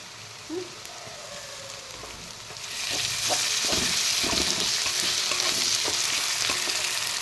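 Onions frying in oil with grated ginger and garlic added partway, where the sizzle suddenly swells into a loud, dense hiss with stirring scrapes and stays loud to the end.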